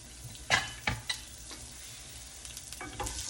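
Grated fresh coconut is stirred and sautéed in a pan for a bottle gourd peel chutney, giving a few soft scraping strokes over a faint, quiet sizzle.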